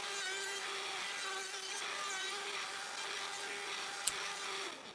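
A CNC machine carving a maple wood plaque hums faintly and steadily, the router spindle's whine persisting with one sharp click near the end, no talk.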